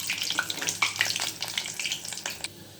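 Meal maker kola urundai balls fry in oil over medium heat, a bright, bubbling sizzle with scattered pops and crackles, fairly close and with no voices.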